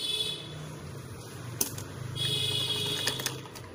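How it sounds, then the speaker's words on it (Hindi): A sewing machine stitches a cushion cover in soft bursts of fast mechanical whirring, running in two short stretches with small clicks between, quiet and close. "यहाँ से हम इसकी स्टिचिंग शुरू करेंगे।"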